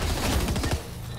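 Submachine gun fire in a video game rattles out as one loud, rapid, continuous burst that cuts off just before the end.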